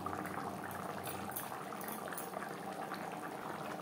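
Tuna fish curry bubbles in a pot on a gas stove with a continuous, close, lively boil and a dense fizz of popping bubbles throughout.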